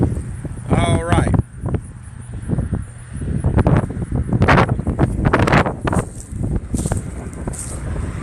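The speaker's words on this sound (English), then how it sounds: "Lots of wind out here. Super windy today." Strong gusts batter the microphone in uneven bursts, rumbling and swelling while a person talks intermittently.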